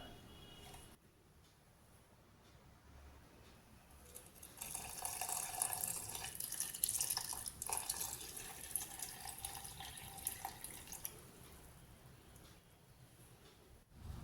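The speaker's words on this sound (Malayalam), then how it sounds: "ഇനി നമുക്കിതിലേക്ക് തേങ്ങാപ്പാൽ ഒഴിച്ചു കൊടുക്കാം." Coconut milk pours into a blended ragi, apple, almond and pomegranate smoothie, a soft, faint liquid trickle that swells midway and then tapers, alone.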